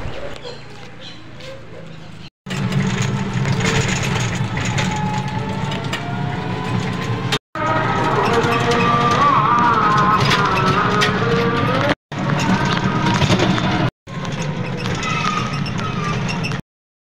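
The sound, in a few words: train departing and running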